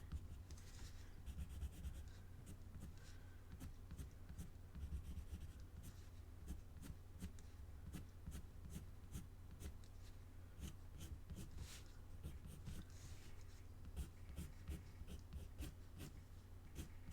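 Colored pencil, a Prismacolor, scratching and flicking across paper while shadow areas are lined in. It makes a steady stream of short, close strokes with no talk.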